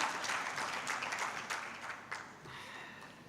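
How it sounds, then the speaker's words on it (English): An audience at a government and development partners' annual justice sector review claps in a continuous, fairly full round of applause that gradually thins and softens toward the end. "You want to clap now?"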